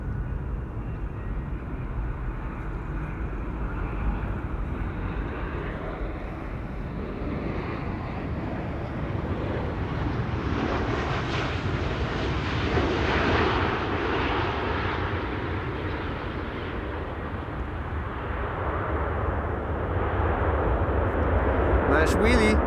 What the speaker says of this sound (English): Flight 21 arriving from Mumbai in India. It's a 7879 Dreamliner.